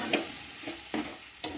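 A vegetable fry being stirred in a pan in a home kitchen: a few brisk spatula scrapes at an uneven rhythm over a soft, steady sizzle, close by and with no one talking.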